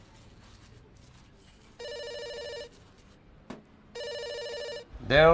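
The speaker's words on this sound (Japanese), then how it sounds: "電話だよ。" A telephone bell rings in two clear, evenly spaced bursts, loud and close, separated by a short click. Quieter background sound sits between the rings.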